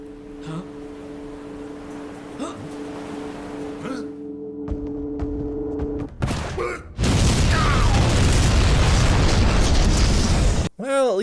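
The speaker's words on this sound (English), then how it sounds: "This is remarkably little damage for a grenade." A grenade explosion in the Resident Evil video game: a sudden loud burst that breaks into a sustained roaring, crackling blast after a quieter stretch of game ambience and tones, then cuts off abruptly.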